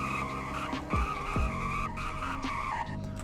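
Sheriff police car in the game Greenville braking hard from speed, with two sharp tire skid squeals over a steady engine drone, loud and close.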